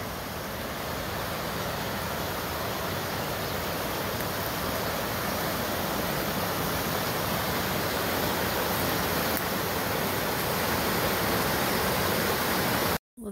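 Stream water rushing steadily near an off-grid homestead site, a continuous broadband flow with no change in level and no voices, cutting off abruptly at the very end.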